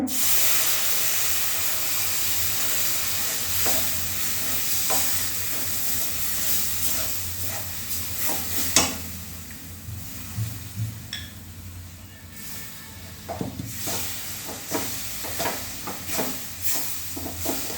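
Melted jaggery poured into a roasting banana burfi mixture and stirred in a pan, a broad steamy hiss with scattered scraping and clinking strokes, louder at first then settling into quieter, irregular stirring.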